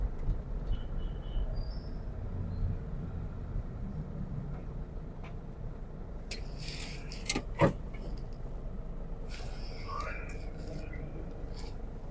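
A steady low rumble of an LRT light rail train passing nearby in Caloocan, Manila, with faint screeches and clanks, under distant ambient noise.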